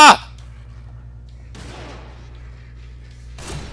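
Gunfire in the survival horror video game The Evil Within: a sharp, loud shot opens the clip, followed by a quieter stretch with a brief burst in the middle and another abrupt blast at the end.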